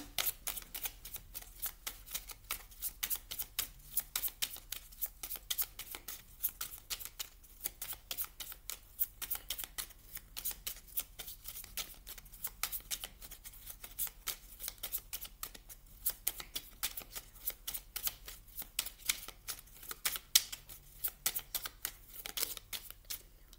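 Tarot cards being shuffled and dealt onto a surface, a long run of quick, crisp flicking and slapping sounds, close and steady, with no voices.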